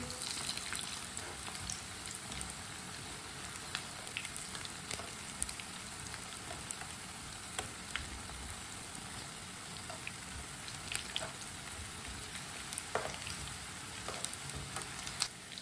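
Pakoras sizzle and crackle steadily in hot oil in a pan, a dense continuous frying hiss with scattered sharp pops, close and moderately loud, with no talking.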